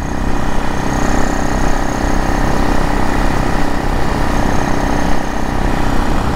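A supermoto motorcycle engine drones continuously and loudly while riding, mixed with steady rushing wind noise and no pauses.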